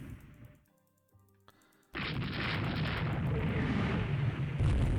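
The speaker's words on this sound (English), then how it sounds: "13 and 16-inch shells raining down on her." Heavy battleship gunfire in the naval strategy game Rule the Waves 3, with 13- and 16-inch shells: after a quiet stretch, a sudden loud boom gives way to a sustained rumbling roar of explosions.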